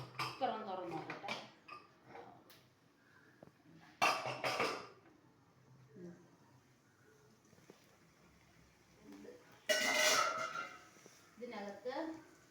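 Pots and utensils clink and clatter in a home kitchen as a cooker is opened, with two sharp bursts of metal rattling between stretches of nearby talk.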